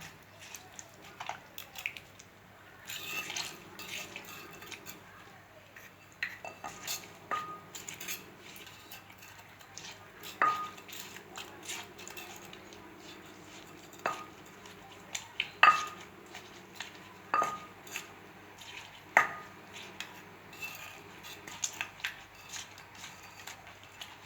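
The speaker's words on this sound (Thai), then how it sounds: "จากนั้นเราก็จะคนให้เข้ากันนะ" Utensil stirring Thai cucumber-style papaya salad with fish sauce in a bowl, soft scraping clinks and wet squishes coming in irregular bursts, close and fairly quiet.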